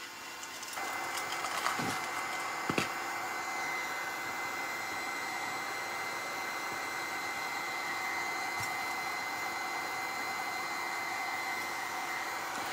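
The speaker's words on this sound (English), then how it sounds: "I'm trying to go here with the heat gun so it's going to dry" A heat gun blows steadily close by, drying patina paint on a lamp, a continuous broadband whoosh that runs unbroken, with a couple of faint clicks early on.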